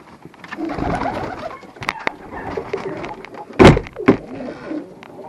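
Pigeons in a bird loft coo and flutter close by, with a couple of sharp wooden knocks and door-like bangs standing out partway through; nobody speaks.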